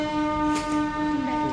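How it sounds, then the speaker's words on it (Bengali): A train arriving, heard from a station waiting area as a sustained loud horn-like tone with steady rail rumble beneath, continuous and close throughout. "চলো ট্রেন আসছে"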